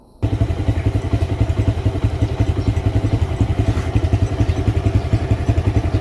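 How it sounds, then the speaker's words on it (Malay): A Modenas GT128 motorcycle engine, kick-started with the fuse and battery terminal removed, runs at a steady idle with a close, loud, rhythmic chugging and mechanical clatter throughout. "enjin masih boleh hidup start pakai engkol kaki ataupun kick starter masa enjin motosikal hidup"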